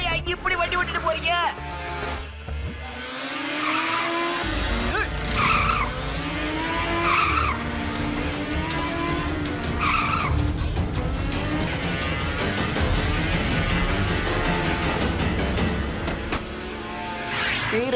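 A car driven recklessly through town skids, its tires squealing in long wavering tones over a continuous loud engine roar, with voices heard through the commotion.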